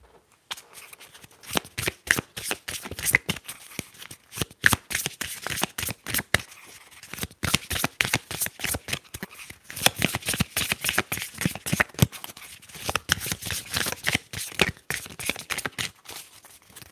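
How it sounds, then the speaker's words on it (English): Tarot cards shuffled by hand in a quiet room, a long run of dense, crisp riffling flutters and soft slaps that pause and resume in steady waves, close and intimate with no voices. "Let's keep shuffling, see what we keep getting."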